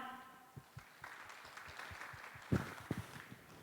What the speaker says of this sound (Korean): 여러분 박수 부탁드립니다.